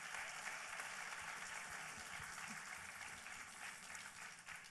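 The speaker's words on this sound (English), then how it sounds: "How about a nice round of applause for all of your finalists?" Steady applause from a pageant audience greeting the top sixteen finalists of the Mrs. International 2017 fitness wear competition, a dense wash of clapping that holds at an even, moderately distant level throughout.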